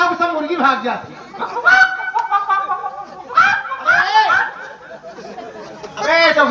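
Chickens squawk and cluck while running through a village in a noisy, overlapping burst, loud and close, with excited human chatter mixed in.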